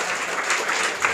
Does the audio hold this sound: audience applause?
yes